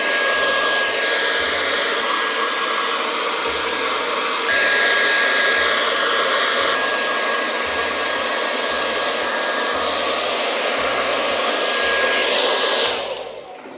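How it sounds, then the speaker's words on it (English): A hair dryer set to cold air blows steadily on curly hair, a loud continuous whoosh with a faint whine and soft rhythmic thumps, then it cuts off near the end. "So I keep drying it with cold air until this point."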